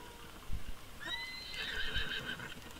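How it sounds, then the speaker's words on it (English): A horse in the video game The Legend of Zelda: Breath of the Wild lets out a clear, bright whinny lasting about a second and a half, with a few soft hoof clops before it over faint game ambience. "Hey, we got a horse!"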